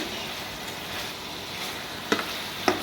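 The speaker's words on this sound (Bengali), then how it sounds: "ভালো করে একটু কষে নিতে হবে মাছটা, মধ্যে মশলাটা চলে গেলে আরও দারুণ খেতে লাগবে।" Rohu fish frying in a pan with spices and green chillies, giving a steady, even sizzle throughout with two short, sharp scrapes of a spatula near the end.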